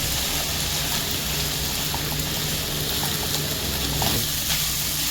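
Shredded cabbage sizzles steadily in a hot pan while being stirred continuously, a dense, even hiss and crackle throughout with faint scraping, no talk.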